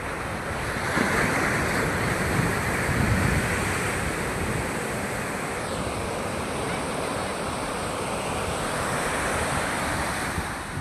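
Sea waves roll and wash steadily along the shore, a broad continuous surf roar mixed with wind buffeting the microphone, and no voices are heard.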